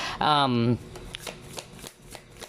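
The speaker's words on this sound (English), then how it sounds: "you saw me shuffle?" Tarot cards being shuffled by hand in a quick series of crisp riffles and soft slaps, close up, following a brief burst of a voice.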